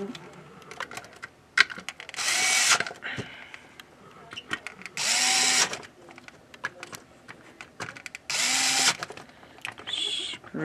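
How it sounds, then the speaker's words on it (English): Screws being driven back into an Xbox One S console with a power driver, in three loud whirring bursts separated by quieter handling clicks and rattles. "Screw the four screws back down."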